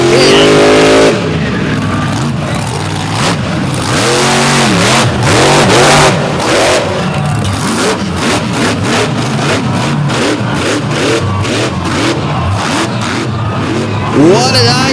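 A freestyle vehicle at a motorsport throwdown in Fowlerville roars and revs hard through a wheel stand, its loud engine surging and dipping continuously, with a voice faintly audible beneath the din.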